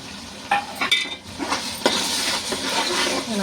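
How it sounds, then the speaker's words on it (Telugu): Ginger paste frying in a pan with onions and green chillies, a steady sizzle under scraping and clinking stirring strokes, close and fairly loud. "ఉల్లిపాయలు పచ్చిమిరకాయలు ఏగినాయి కదా ఏగిన దానిలో ఇది కూడా వేసామంటే అది కూడా చక్కగా ఏగిద్ది"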